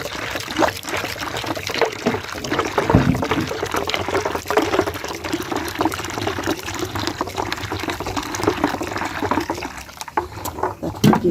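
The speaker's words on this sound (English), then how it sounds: "And then I'll mix in the hot water." Hot water is poured and stirred into a pot of cassava flour porridge, making a continuous close splashing, trickling pour with wet mixing sounds throughout and no talking.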